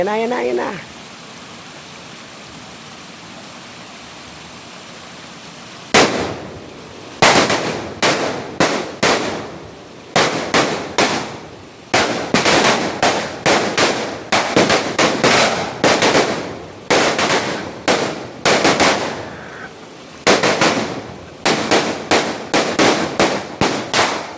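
Higad Thunder slow-fuse firecrackers from M. Garcia Fireworks Phoenix go off after a quiet opening: a long rapid string of loud, sharp outdoor bangs in irregular bursts with brief pauses between clusters.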